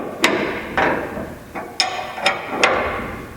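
A wrench retightens the bolt on a J bar, giving about five sharp metallic clacks in an uneven rhythm, each close and fairly loud with a short ringing decay.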